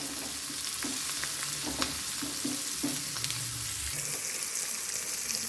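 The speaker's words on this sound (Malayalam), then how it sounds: "അപ്പോൾ നമുക്ക് ഇതിലോട്ട് അങ്ങിട്ട് കൊടുത്ത് നന്നായിട്ട് ഫ്രൈ ചെയ്തെടുക്കാം" Pink perch fish sizzles as it fries in hot oil in a home kitchen, a continuous crackling hiss broken by repeated short clinks and stirring scrapes, close and fairly loud.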